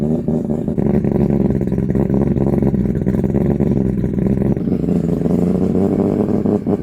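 A 900 hp Volvo engine with silencers fitted runs steadily in a workshop, a loud, even, muffled drone with a slight change in tone partway through, no talking.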